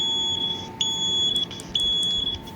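A hardwired First Alert smoke alarm with an escape light gives a high-pitched, fast code 3 pattern of sharp beeps, loud and close, with nobody speaking.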